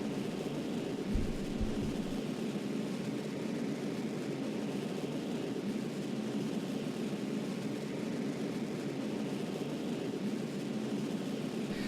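A rocket engine burn in Kerbal Space Program gives a continuous, even roar, loud and unbroken throughout, with a brief low thump near the start and no talk over it.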